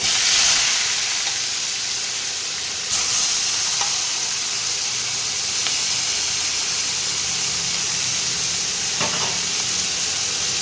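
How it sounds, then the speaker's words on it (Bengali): Chopped onions sizzle steadily in a hot pan with whole cumin and a little sugar, cooking for a chicken curry, with occasional soft stirring scrapes over the continuous hiss and no talking. "পেঁয়াজগুলোকে এবারে লাল লাল করে ভেজে নিতে হবে।"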